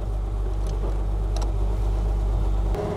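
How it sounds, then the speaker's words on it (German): A 1953 Mercedes 300 S Coupé drives along with a steady low engine hum and road rumble, close and continuous, with a few faint clicks. "dann wollen wir mal weiterfahren mit unserem Mercedes 300S."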